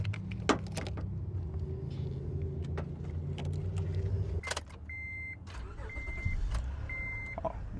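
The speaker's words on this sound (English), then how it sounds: "Oh, it starts up nice." A used car turns over and starts after a jump start, its engine settling into a steady idle, followed by clicks and a few short electronic chimes from the dash.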